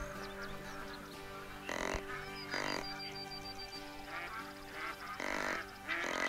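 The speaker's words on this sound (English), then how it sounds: "Bunch of ducks coming in." A bunch of ducks quacking during a hunt, repeated loud nasal quacks and honks in irregular bursts over a steady background hum, fairly close.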